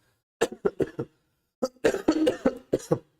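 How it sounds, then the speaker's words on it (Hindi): A quick burst of four sharp coughs, a short pause, then a longer run of harsh, hacking coughs close to the listener. "खांसी अभी तक मेरी ठीक नहीं हुई है।"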